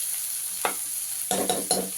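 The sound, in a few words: onions frying in a pan for curd vada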